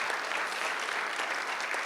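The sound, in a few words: audience applause for Vicki Gladstone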